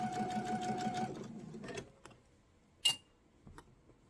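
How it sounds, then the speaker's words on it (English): A sewing machine runs a short seam across fabric for an eyeglasses case, a close, rapid stitching burst that stops after about two seconds. A sharp click and light handling follow. "And we're going to sew across here."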